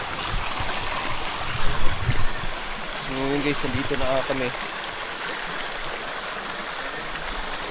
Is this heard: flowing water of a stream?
yes